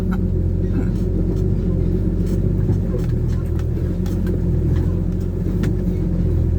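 A car laden with dirt strains its engine while climbing out of a rut, producing a loud, steady low rumble that holds without a break throughout.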